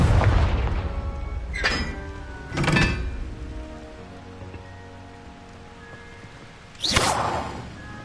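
Confringo fire spell blasts from a Hogwarts Legacy duel, a heavy rumbling boom at the start followed by sharp bursts near two and three seconds and another crackling blast around seven seconds, over a steady low background.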